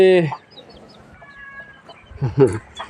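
Chickens at a temple in Lampang, with a short clucking burst at the start and another louder burst later, close by and separated by a quiet stretch.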